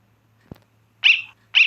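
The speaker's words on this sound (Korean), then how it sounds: "강아지가 왜 여기 있어?" Short electronic dog barks from the Undertale video game: two bright yips close together after a soft thump, alone with no talking, over a faint low hum.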